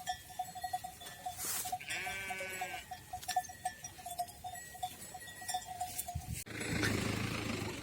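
Sheep and lambs bleat in scattered calls over a faint steady tone outdoors in extreme cold, then a louder burst of wind-like noise takes over near the end.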